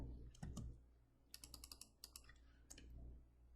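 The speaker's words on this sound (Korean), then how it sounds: "제가 다시 타이핑해 드릴게요." Typing on a computer keyboard: soft, quiet key clicks come in small irregular bursts, close by, over a low steady background hum, with no talking.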